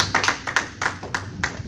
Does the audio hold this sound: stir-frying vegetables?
no